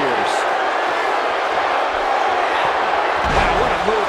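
Crowd in a WWE 2K17 SmackDown wrestling arena roars steadily, a dense, continuous cheer with scattered shouts and a brief thud near the end, loud and filling the space.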